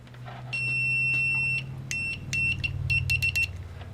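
A Tekpower Sunwa YX360TRE-B analog multimeter in continuity mode gives a loud, shrill electronic beep: one long sustained tone, then a run of short, irregular beeps as the probes make and break contact, over a low hum.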